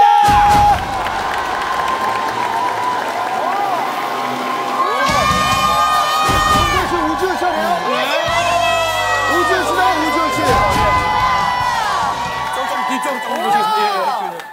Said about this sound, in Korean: 큰 박수로 하시겠습니다!